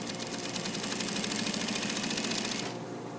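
A sewing machine stitches a jeans hem with a fast, even mechanical chatter close by, running steadily and then stopping near the end.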